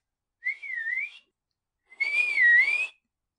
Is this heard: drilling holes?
no